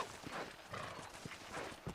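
Horse hooves clip-clopping in Red Dead Redemption, a steady run of close, loud footfalls repeating in an even gait with a faint whinny-like texture behind them.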